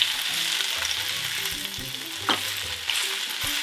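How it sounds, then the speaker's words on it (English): Swiss chard and caramelized garlic frying in olive oil in a pan, a steady loud sizzle with occasional stirring scrapes and clicks, no talking. "Continually stir, and you're going to coat the Swiss chard and the now beautifully caramelized garlic."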